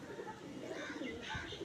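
Tournament racing pigeons with stamped rings coo softly and faintly in a steady, low murmur, with a little background noise.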